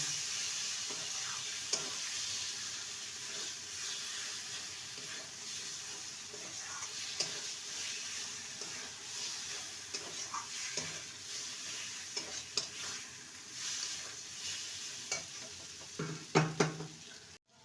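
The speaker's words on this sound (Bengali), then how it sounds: "এবার ভেজে রাখা আলুগুলো দিয়ে দেবো ভালো করে মশলার সাথে দু মিনিট নেড়ে নেব" Fried potatoes are stirred with spices in oil for aloo dum, with a soft, steady sizzle and repeated light scrapes and knocks of a spatula against the pan, louder clatter near the end; no speech.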